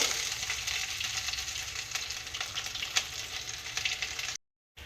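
Chopped onion sautés in a pan for coconut milk rice, giving a soft, even sizzling hiss with a few light utensil clicks before a sudden cut to silence.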